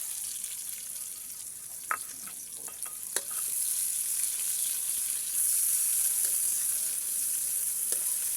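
Onion frying in a pan while cooking Filipino adobong sitaw, a soft, even sizzle close by, with a few light clicks from utensils and no voices.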